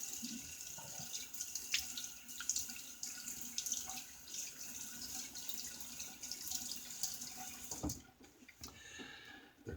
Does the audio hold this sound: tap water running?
yes